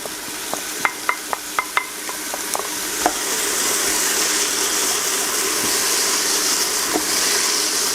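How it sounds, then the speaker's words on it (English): Onions frying in a pan are stirred, with a few sharp utensil clicks against the pan at first, then a steady, loud sizzle that carries on alone. "Just keep stirring that, and then we're going to add the celery in."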